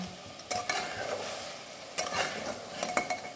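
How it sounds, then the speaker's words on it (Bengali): Mutton stirred in hot oil in a pan for a curry, with a steady sizzle broken by a few sharp scrapes and clinks of a spoon against the pan, close and fairly quiet, no talking. "মটনটা যতক্ষণ না তেল ছাড়বে ততক্ষণ একটু নেড়ে নেব"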